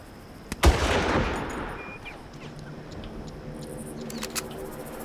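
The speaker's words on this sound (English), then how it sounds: "I'd recommend using the sniper's rifle on this one" One sharp sniper rifle shot in the Far Cry video game, a single loud crack followed by a long fading echo, then quiet ambient background with faint scattered clicks.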